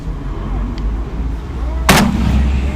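A single loud rifle shot from an IWI gas gun, fired at a target 500 yards away on an outdoor range, cracks sharply against a low rumbling background hum, followed by a short decaying echo.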